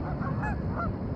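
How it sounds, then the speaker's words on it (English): Geese honk outdoors over a dense, steady wash of bird calls, several overlapping cries standing out from the constant background chatter. "Lots of birds."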